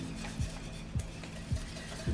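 Chocolate cake batter with sour cream is being whisked in a bowl: a steady soft scraping churn with light rhythmic taps against the side about every half second, fairly quiet.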